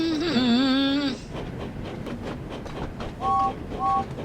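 Train from the Thomas and Friends video game Wonders of Sodor running at night through snowy countryside, a steady rumbling ride with a rising whistle-like tone at the start and two short horn toots near the end.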